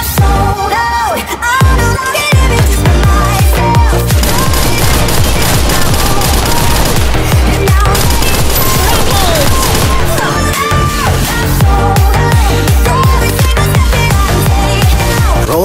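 Gunfire rattles through a desert-island battle royale shooter game, with dense bursts of automatic fire and shots continuing nonstop over a loud, busy game mix for the whole stretch.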